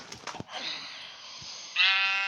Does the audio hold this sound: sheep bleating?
yes